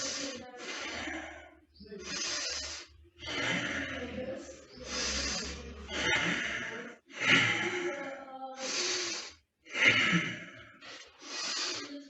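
Someone lying face down takes slow, deep breaths, each long airy inhale or exhale followed by a short pause, repeated steadily about ten times at close range.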